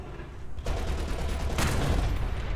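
Light machine gun fire in War Thunder, a sustained rapid burst of gunfire starting abruptly and running loud and dense to the end, with a sharper surge partway through.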